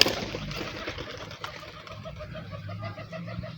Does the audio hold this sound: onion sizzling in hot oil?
no